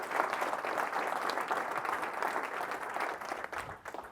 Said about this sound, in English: Yes, you can applaud that.